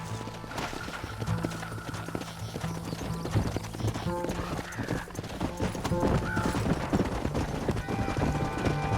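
Galloping horse hooves clip-clop steadily in the Red Dead Redemption video game, with a whinny partway through, set against game music and occasional shouted voices.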